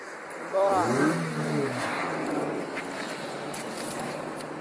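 A small engine on a motorized bicycle revs up in a rising whine that then settles into a steady drone, with people talking over it outdoors.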